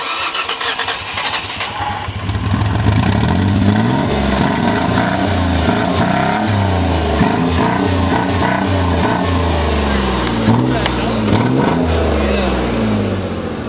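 A beater car's engine with a modified exhaust cranks and fires up, then revs repeatedly in loud rising and falling surges, rough and close, continuing for several seconds.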